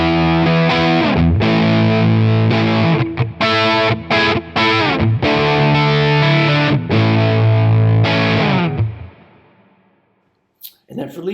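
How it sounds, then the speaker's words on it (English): Thick overdriven electric guitar rhythm chords, driven through a Nobel OD1 overdrive with the drive kept moderate and level pushed, chug in choppy bursts with short gaps, then ring out and fade into near silence. "we're hitting it with a Nobel OD1. So I don't have the drive too high. I'm pushing the level a little bit, and this is just a nice thick kind of rhythm tone."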